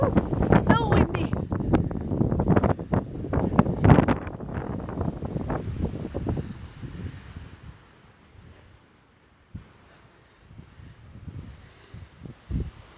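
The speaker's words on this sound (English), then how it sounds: "Woo, so windy." Strong gusting wind buffets the microphone in a cemetery on a very windy day, loud and rumbling for the first six seconds before easing to a softer, intermittent roar, with a person's voice heard briefly.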